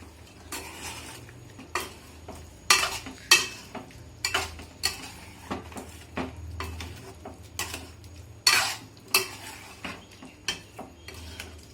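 A spoon stirs chicken curry with coriander powder in a pan, producing irregular clinks and scrapes against the metal at a moderate distance, with soft sizzling between strokes.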